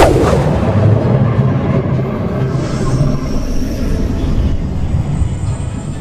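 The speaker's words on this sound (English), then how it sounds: "Explosion erupted and the ground shook beneath them." Continuous rumbling explosions and booming blasts in an anime battle scene from Solo Leveling, dense and roaring throughout, with a dull low-end roar and no clear pauses between impacts.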